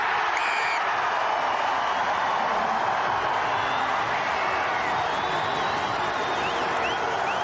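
Rugby stadium crowd cheering loudly and continuously at an Auckland versus Northland NPC match, a dense unbroken roar that holds steady throughout.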